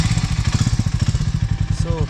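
A Harley-Davidson X440 motorcycle engine idles close by with a fast, even thumping pulse, loud and steady, with a brief voice near the end.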